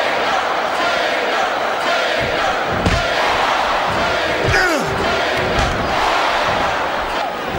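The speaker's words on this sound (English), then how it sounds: "It's been a long time since I saw a crowd get behind a superstar the way they have for John Cena" A large arena crowd in the Smackdown vs Raw 2008 wrestling video game roars for John Cena in a constant loud wash of cheering, with a couple of dull thuds and a commentator talking underneath.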